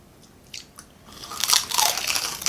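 Someone bites into crispy fried chicken from a mukbang spread of lechon kawali and barbecue chicken thighs, a few faint crackles giving way to loud, close, sustained crunching and chewing.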